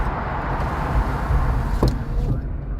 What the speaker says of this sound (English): when this car came into the tunnel on the backside